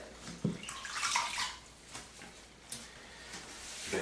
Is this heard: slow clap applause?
no